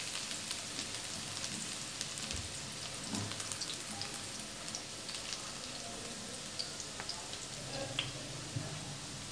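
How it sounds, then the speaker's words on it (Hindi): Garlic sizzles in a hot pan for a chicken pasta with white sauce, a steady dense crackle with scattered pops that carries on evenly throughout. "लहसुन को बहुत ज़्यादा गोल्डन या डार्क नहीं करना, इसको बस थोड़ा सा सौते करके"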